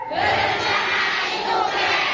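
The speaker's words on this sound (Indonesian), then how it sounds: "Tepuk tangan sekali lagi, luar biasa." A crowd at a BKKBN community outreach event in East Java roars with sustained cheering and shouting, a dense, loud wash of voices that holds steady for a couple of seconds.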